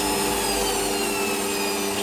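Metal lathe parting off saw mill guides, a steady loud whirring hum with strong tonal harmonics and cutting hiss, continuous and close for two seconds.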